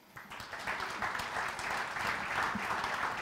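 Sustained applause from an audience at a celebration of fifty years of women's football in Trnava, a dense, steady wash of many hands clapping throughout with no talk.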